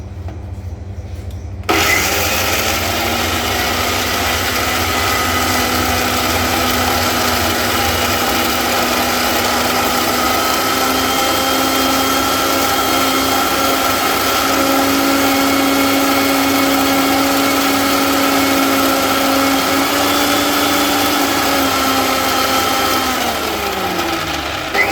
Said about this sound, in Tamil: போட்டுட்டு இது நல்லா பேஸ்ட்டாக அரைச்சிடணும்.